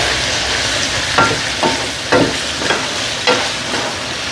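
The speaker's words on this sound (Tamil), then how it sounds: "சூப்பராக பொரியுது" Ingredients for squid curry fry in a hot pan with a steady loud sizzle, while a utensil stirs and scrapes through them every half second or so.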